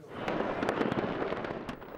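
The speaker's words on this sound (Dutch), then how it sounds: "Steeds meer mensen vinden het prima als alleen de gemeente nog vuurwerk afsteekt." Fireworks being set off at New Year, a dense, continuous crackle of bursts and pops with several sharper bangs standing out, close and loud throughout.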